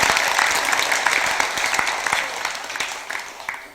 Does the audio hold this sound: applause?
yes